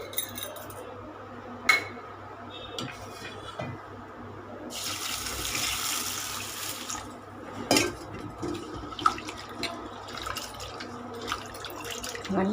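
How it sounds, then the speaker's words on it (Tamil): Rice is washed in water in a pot while making adai batter, with close sloshing, splashing and trickling water mixed with clinks of metal against the pot, including a louder stretch of running water midway. "நல்லா 3 வாட்டி நல்லா அலசிட்டு இந்த மாதிரி எப்போவுமே அரிசி இந்த மாதிரி கழுவணுங்க."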